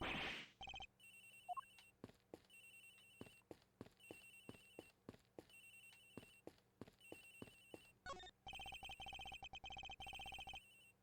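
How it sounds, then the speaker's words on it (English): A telephone rings in the Ace Attorney Investigations video game, with the phone up in a flight attendant's room: repeated electronic ring bursts in a steady rhythm, fairly quiet and with no talk over it. "Sounds like the phone is up in the flight attendant's room"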